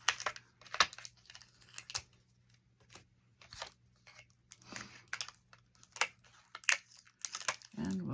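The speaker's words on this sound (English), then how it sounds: "Now let me take that tape off." Tape peeled off a die-cut Christmas card, heard as a string of short, quiet crinkly rips and crackles separated by brief pauses, close by.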